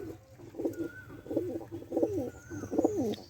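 Pigeons on a rooftop coo in repeated low, rolling calls, several in a row at an easy rhythm, fairly close but soft, with a faint high tone drifting behind.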